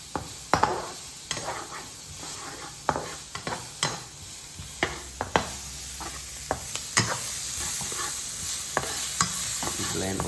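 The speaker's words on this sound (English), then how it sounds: "now stir fry the onions and the garlic and the chilies" Onions, garlic and chilies being stir-fried in a pan, with a soft constant sizzle broken by repeated sharp scraping knocks of a spatula against the pan at an irregular pace.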